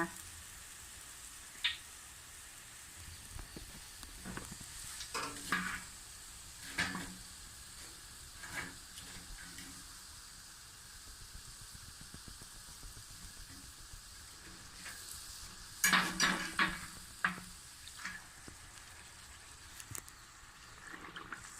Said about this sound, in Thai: ในขณะที่เรากำลังเอาพิมพ์ลงใน กระทะร้อนๆแล้วก็เขย่าเขาด้วยนะคะ